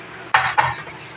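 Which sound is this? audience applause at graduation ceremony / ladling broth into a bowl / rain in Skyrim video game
ladling broth into a bowl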